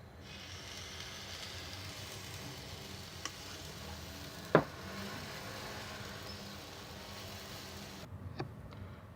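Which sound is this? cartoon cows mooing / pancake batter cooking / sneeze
pancake batter cooking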